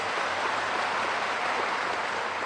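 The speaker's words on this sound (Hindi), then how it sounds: "अरे जोर से ताली बजाओ शांतनु जी के लिए" Applause from a crowd at an outdoor political rally on the Petrapole border, a steady dense wash of clapping held at even loudness for the whole stretch, with no voices over it.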